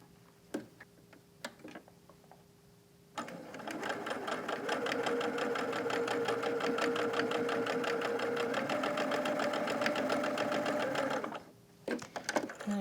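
A sewing machine stitches quilt patches together, starting after a few quiet clicks and handling noises, then running in one steady, fast, even whir of needle ticks for about eight seconds before stopping, followed by more small handling sounds.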